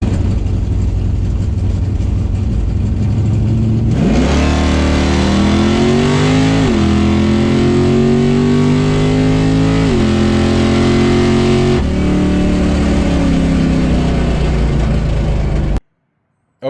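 A drag car with a Turbo Action J 9-inch torque converter launches on the track during a time trial run, its loud engine revving up through rising pitch and shifts for about twelve seconds before cutting off abruptly.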